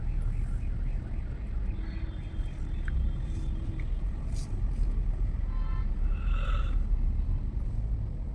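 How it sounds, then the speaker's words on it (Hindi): Heavy road traffic with trucks all around, heard from inside a vehicle near a toll plaza in Ambala, India: a continuous low engine rumble fills the whole stretch, with a faint horn-like tone and some background talk. "ट्रक ट्रक ट्रक, इधर भी ट्रक, पीछे भी ट्रक।"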